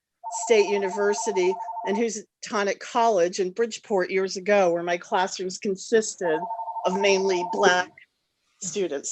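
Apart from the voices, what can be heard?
phone ringing during meeting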